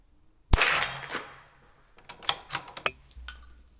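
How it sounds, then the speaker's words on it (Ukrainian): Suppressed Retay Sporter .22LR rifle fires at steel gongs: one sharp muffled shot with a ringing tail, then a run of quick clacks and light metallic pings, close. "Стріляю по гонгах, по черзі 25, тобто 50, 75 і 100 метрів"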